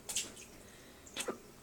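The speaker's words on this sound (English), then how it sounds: "drop them in the water" Small objects dropped into a tub of water for a sink-or-float test make two brief splashes about a second apart, close and soft in a quiet room.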